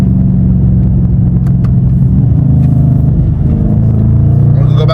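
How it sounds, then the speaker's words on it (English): A car engine roars loudly and close through a paddle-shift downshift, a deep droning growl whose pitch steps and rises as the revs climb. "We're gonna downshift, and then you hear the engine roaring."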